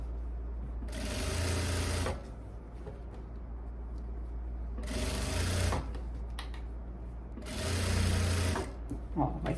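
A sewing machine stitches binding along the neckline of a viscose blouse in three bursts of running, each a couple of seconds long, close and fairly loud, with quiet pauses between them and someone speaking in the gaps.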